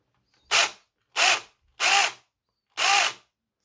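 A cheap cordless mini chainsaw runs in four short, loud revving bursts of roughly half a second each, separated by brief silences.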